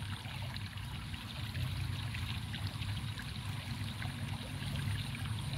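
Continuous babbling and trickling of flowing stream water, a steady moderate wash of gurgles with no voices.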